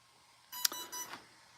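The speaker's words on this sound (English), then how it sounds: "that's a low voltage alarm" Drone battery low-voltage alarm on a Spectrum Avian 100-amp ESC, a short, faint cluster of high electronic beeps lasting about half a second over quiet background hiss.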